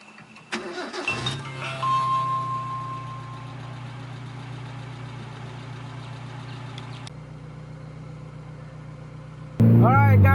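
A Mazda RX7 SA22C fitted with a heavier Mazda family-car engine cranks, catches and settles into a steady, even idle near the microphone, before a sudden louder burst of noise at the end.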